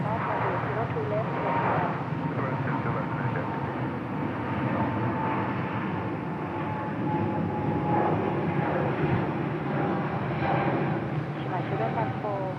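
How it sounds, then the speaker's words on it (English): A steady, loud roar of Aeroflot A330 airliner engines at a Bangkok airport fills the air continuously, with airport radio chatter and voices talking over it. "Oh, there's Aeroflot A330. Listen to this thing."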